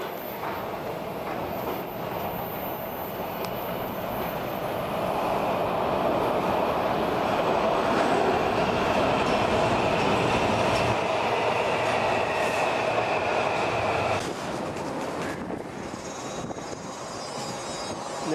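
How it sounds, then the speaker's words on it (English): A Washington DC Metro train rolls into National Airport, an above-ground station, with a loud, steady rumble and hiss that swells midway, then eases as the train slows and stops. "These lights flash when there's an approaching train."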